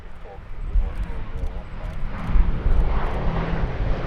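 A B-17 style WWII four-engine bomber drones past at an airshow, a rising propeller-engine rumble growing louder as it nears, with a commentator talking over it.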